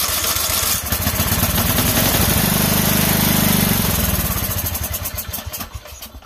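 A weed eater's small two-stroke engine, failing to draw gas into the carburetor, sputters and revs loudly up close for several seconds before the buzzing fades and dies away.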